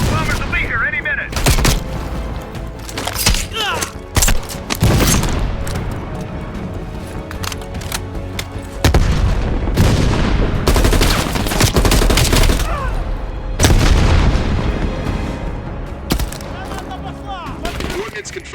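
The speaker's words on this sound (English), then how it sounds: "Bombing strike imminent." Video game battle with bombing strike explosions and dense gunfire: rapid fusillades and heavy booms rumble loud and close throughout, with a voice talking over parts of the action.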